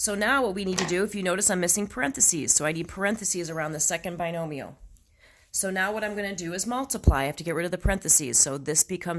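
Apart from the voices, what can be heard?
No everyday noise stands out behind the speech.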